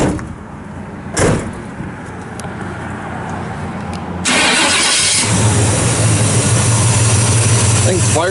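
A 1972 Chevrolet Cheyenne 10 pickup with its original V8 cranks briefly and fires up, then settles into a loud, steady idle, after an earlier door thud and some handling noise.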